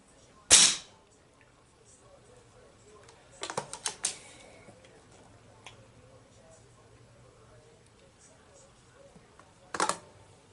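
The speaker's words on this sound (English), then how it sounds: "Shot number 1, and I am aiming for the top" An Airforce Escape/Condor .25 air rifle fires at a target 40 yards out, giving a sharp, loud crack at the start, then a cluster of lighter clicks a few seconds later, and another sharp report near the end.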